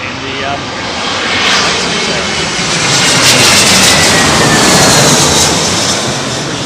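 An Airbus A321 arriving at London Heathrow on a blustery evening, its engine roar loud and steady throughout as a broad rushing drone with wind buffeting the microphone.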